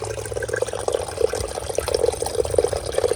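Water running out of a drainage pipe after heavy rain on rural land, a steady soft gurgling trickle with slight splashes, fairly quiet and continuous with no voices.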